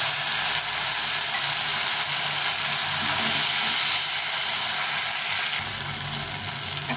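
Chopped tomatoes are added to onions already fried golden in a pan, giving a loud, continuous sizzle and hiss that holds steady throughout.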